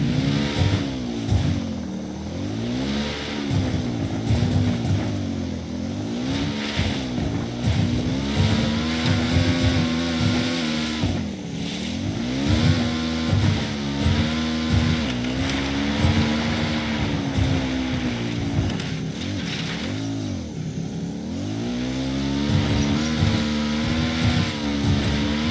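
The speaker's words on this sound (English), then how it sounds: "I'm riding the motorcycle." A motorcycle engine in the video game Ghost Recon Wildlands drones and revs continuously while riding, its pitch repeatedly rising and falling with throttle changes, close and steady with no speech.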